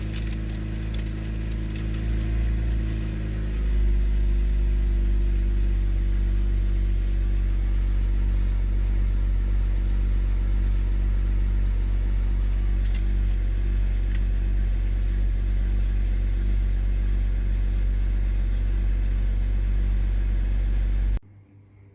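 A BMW N52 engine with a rough idle problem and a CCV valve fault, idling with a steady low drone that shifts slightly after a few seconds, then cuts off abruptly near the end, with no talking.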